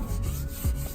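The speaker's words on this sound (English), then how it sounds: "scrub it off and it comes right off." Plastidip overspray scrubbed off the body of a Vanagon, a close, steady rubbing and scouring sound in brief strokes, with no talk.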